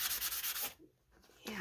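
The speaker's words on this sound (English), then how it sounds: "I'm going to begin by just sanding these" Paper stickers being sanded with a sanding pad: a few quick, close rasping rubs, then a short quiet gap and a small handling noise at the end.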